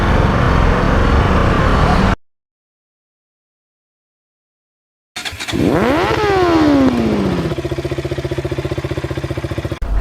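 An Aprilia RS457 motorcycle engine starts after a pause and settles into a loud, close idle, with a brief rising rev in the middle and the engine running steadily to the end.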